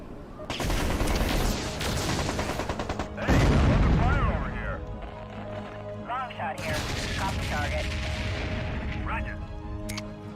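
Mech machine guns firing in the MechCommander 2 strategy game, dense bursts of rapid shots with a heavy boom midway and chirping electronic effects, loud and sustained throughout.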